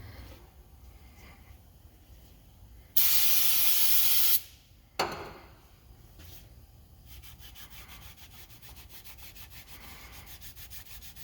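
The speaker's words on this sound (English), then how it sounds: "Now I'm gonna wipe the whole surface down with brake clean." Brake cleaner sprays in one loud, steady burst of about a second and a half while a Ford F250/F350 Dana M275 rear axle surface is cleaned, followed by a short second spray and continuous quiet wiping and rubbing against faint workshop background.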